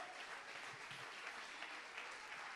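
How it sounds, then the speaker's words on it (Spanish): A church congregation gives a brief round of praise applause, a faint, steady patter of many clapping hands heard from a distance. "De un aplauso de alabanza al Señor."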